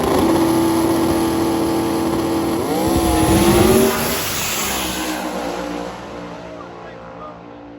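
Drag racing car making a full pass down a prepped, sticky drag strip at a Sick Week 2024 event, a loud engine roar that rises, shifts pitch mid-run and fades as the car pulls away, with a commentator talking over it.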